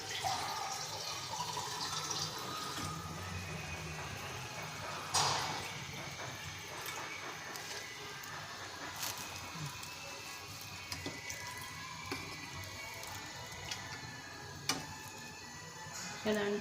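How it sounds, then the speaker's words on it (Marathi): Water is poured into a simmering vegetable curry gravy on the stove, a soft steady trickle and splash lasting several seconds, with someone talking over it and a few sharper clinks along the way. "तर आपण जेवढा आपल्याला रस्सा हवा आहे तेवढं आपण पाणी घालून घेऊया."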